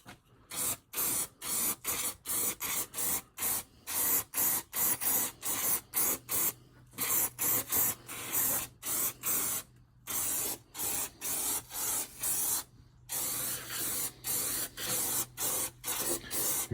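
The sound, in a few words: spraying silicone spray onto a motorcycle tire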